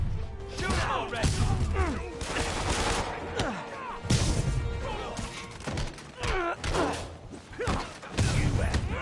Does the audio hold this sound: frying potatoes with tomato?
no